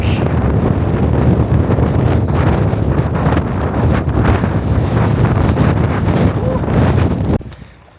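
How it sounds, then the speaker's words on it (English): Strong, roaring wind buffets the microphone throughout a hike in Iceland, loud and continuous with gusty swells, then cuts off abruptly near the end. "I've had enough of that wind"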